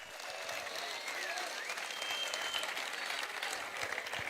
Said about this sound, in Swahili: Mpigie makofi mzuri sana.